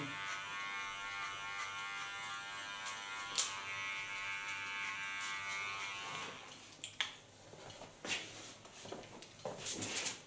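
Electric hair clipper trimming the neckline during an asymmetric side-shave haircut, a steady close buzz with a few sharp clicks; later the hum breaks into short scraping bursts as the blades work.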